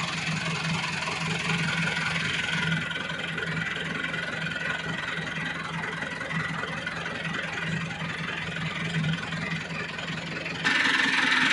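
A 2015 Massey Ferguson 385 tractor drives a 54-blade rotavator with the lever fully down, giving a steady, close, continuous engine drone with a low throbbing hum and no pause throughout.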